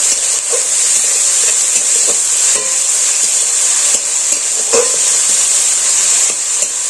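Ginger paste, onion paste and chopped tomato stir-fry in a pan with a loud, hissing sizzle, broken by repeated sharp stirring clicks and scrapes; no speech.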